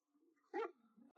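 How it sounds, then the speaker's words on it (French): An aggressive dog lets out one short, close bark, framed by a low growling whine before and after it. "Ce chien est encore en train de mordre un chat errant."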